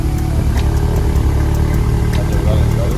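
A Volkswagen Golf R being prepared for Stage 3 tuning idles steadily close by, with a low, even engine hum running for the whole stretch and no clear revving.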